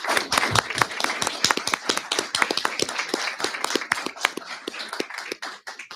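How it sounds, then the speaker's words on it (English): A small group applauds at a county commissioners meeting: crisp, scattered hand claps at close range, fairly loud and uneven, thinning slightly toward the end. "let's give the gentleman a round of applause"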